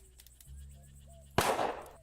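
A single loud gunshot rings out in a western video game, sudden and close, cutting through a low steady hum and faint tones before it and trailing off into a noisy decay.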